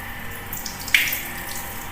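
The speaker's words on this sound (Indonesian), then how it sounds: "Kita cuci dengan air mengalir terlebih dahulu." A laboratory tap runs steadily as water rinses a hematoxylin-stained slide in a histology lab, a constant hiss with one brief splash partway through.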